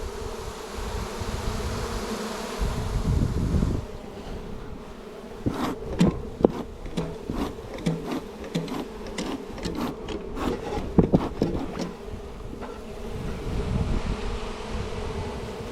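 A swarm of honeybees drones steadily nearby while sharp scraping and tapping sounds, like wood being rubbed or pried, break in repeatedly.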